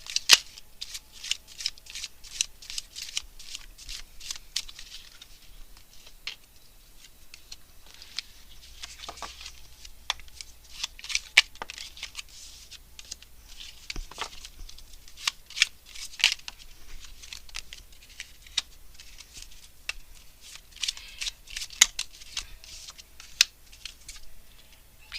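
Tarot cards being shuffled and drawn: a steady stream of crisp, riffling card flicks and soft slaps, close and moderately quiet, with no voice.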